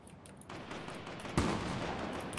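Bursts of gunfire in a video game, fairly faint and distant, a steady crackle of rapid shots with one sharper, louder report partway through and no one talking.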